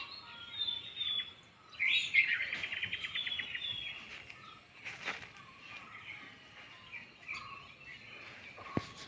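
A tiny sparrow chirps in short bright bursts at village distance in rural Konkan, a quick trill near the start followed by scattered faint tweets and a sharp click at the end.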